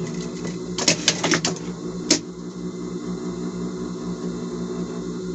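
A sewing machine runs steadily, stitching fabric for a pair of summer shorts, with a few sharp clicks and clacks near the start over a constant mechanical hum.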